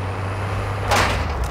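A truck's air brake hissing in a short burst over a steady low engine hum while driving in Modern Warfare 2, close and loud.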